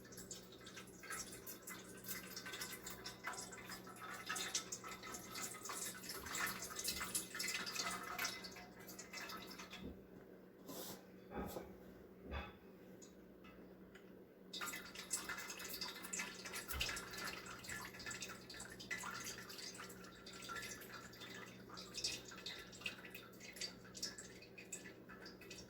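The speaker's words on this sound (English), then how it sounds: "I'm draining the grease off" Grease draining and dripping from cooked chili meat held in a pot with the lid tilted, a steady liquid trickle with scattered drips and splashes running continuously, close by, with no talking.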